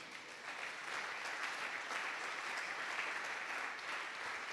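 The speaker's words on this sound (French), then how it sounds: "Quelqu'un peut acclamer pour la gloire du Seigneur" A church congregation applauding and cheering for the glory of the Lord: steady, dense clapping from a large crowd that fills the room evenly throughout.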